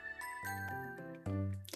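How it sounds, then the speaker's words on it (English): A doorbell chime in the video game New Style Boutique rings as a short series of clear bright tones, fairly loud and heard alone. "Ding dong."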